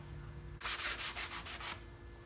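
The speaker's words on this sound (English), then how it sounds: "I'm just rough sanding it with a sanding sponge" Rough hand sanding with a sanding sponge, a burst of about six quick scratchy back-and-forth strokes, close and fairly quiet after a near-silent start.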